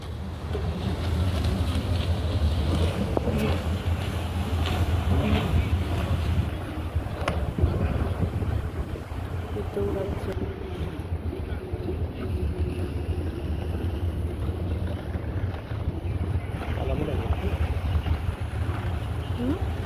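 Boats moving on the Delaware River produce a steady low engine and water rumble, mixed with wind buffeting the microphone, continuous and moderately loud.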